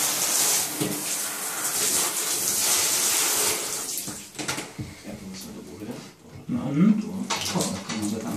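Running tap water splashes over a washed part of an air purifier, a steady loud gush that later breaks into irregular splashing and dripping as the piece is handled.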